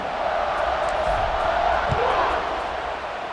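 Stadium crowd noise at kickoff in the college football video game College Football 26, a steady, loud roar of many voices that holds without pause and eases slightly toward the end.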